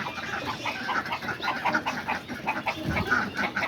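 A flock of hungry homing pigeons crowd around a feed bucket, giving dense overlapping cooing and fluttery calls, close and steady with no talking.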